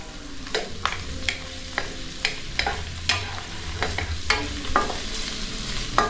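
Food sautéing in a frying pan, a steady sizzle broken by regular sharp scrapes and taps of a spatula against the pan, close and alone.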